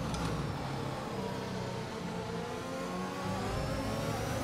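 A Formula 1 race car engine in the F1 video game at the Bahrain circuit, a steady high-pitched whine holding fairly constant as the car runs, heard alone without talk.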